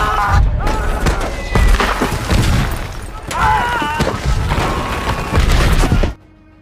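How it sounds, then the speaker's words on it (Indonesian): Loud booming mortar shell explosions and crashes from a war film follow one another in a chaotic barrage, with shouting voices mixed in, before everything cuts to near silence. "ledakan mortir bertubi-tubi mengarah ke arah para tentara Prancis"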